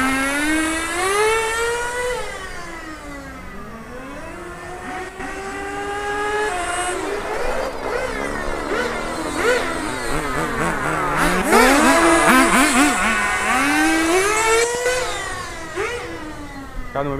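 Nitro-powered 4WD radio-controlled cars, a Kyosho FW05T and an FTX Banzai, race nearby with high, buzzing two-stroke whines that rise and fall in pitch as they rev, accelerate and pass, continuous and loud.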